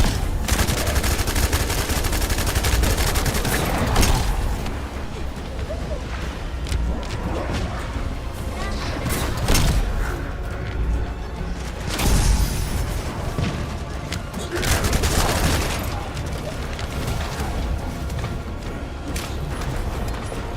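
A beam rifle fires repeatedly in The First Descendant, with loud bursts of gunfire and booms arriving in clusters amid chaotic combat noise.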